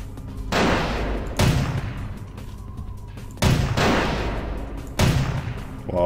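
Gunfire in the vampire action RPG Vampire: The Masquerade - Bloodlines comes as four heavy, booming bursts spaced a second or two apart, each decaying into a rumbling tail, close and loud.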